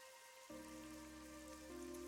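Steady rain falling in the video game AI: The Somnium Files, a constant hiss on a surface that continues through the whole stretch alongside sustained tonal music that rises in level partway through.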